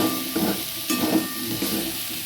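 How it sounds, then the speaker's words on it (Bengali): Potatoes fry in hot oil with a steady close sizzle and hiss, broken by a few stirring scrapes, no voices present. "আলুটা ভেজে নেব আলুটা ভেজে আলুটা তুলে নেব"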